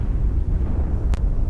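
A deep, sustained explosion rumble from Castlevania: Legacy of Darkness inside Dracula's castle, a loud low-frequency roar filling the whole moment with a brief sharp burst near the end, no voices over it.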